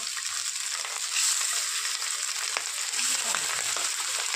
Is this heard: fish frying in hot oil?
yes